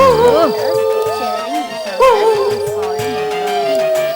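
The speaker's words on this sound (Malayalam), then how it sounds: "തുടങ്ങും നായ്ക്കളുടെ ഓരിയിടല്" Several dogs howl in long, wavering, overlapping cries, loud and close, continuing through the whole stretch.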